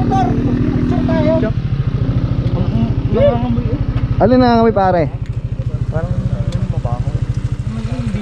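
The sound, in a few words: motorcycle engine while riding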